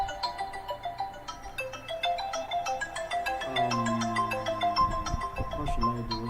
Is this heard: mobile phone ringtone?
yes